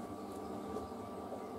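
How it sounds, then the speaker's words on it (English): A fan hums steadily in a Hotpoint WD860G washer dryer during drying, a constant broadband whir with a low droning tone that holds even and unbroken throughout. "That is a nice dryer fan."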